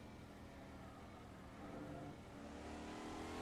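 McLaren M8C race car in a VR racing game at Laguna Seca, engine holding high revs at about 7,000 RPM in fourth gear, a steady loud mid-pitched roar that swells slightly toward the end.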